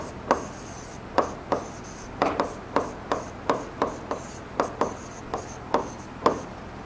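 Chalk writes numbers on a classroom board in a maths lesson, sharp tapping and scratching strokes in an uneven rhythm, close and clear with no talk.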